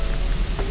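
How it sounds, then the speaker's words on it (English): Rain falls steadily outdoors, a dense, even patter on surfaces that holds at a constant level with no voices over it. "I think I'm just gonna wait for the rain to lessen."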